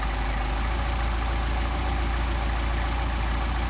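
A Mercedes 190SL engine on Solex 44PHH carburetors runs at a steady idle, a close, continuous low rumble with even pulsing and no voices.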